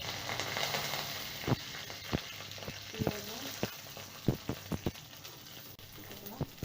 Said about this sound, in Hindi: जब तेल थोड़ा सा गर्म हो जाएगा तो हम लोग उसमें 1 चम्मच जीरा डालेंगे